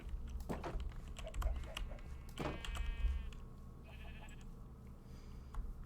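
Sheep bleat in the Minecraft Tektopia mod, a few short calls standing out over a steady game background and faint clicking.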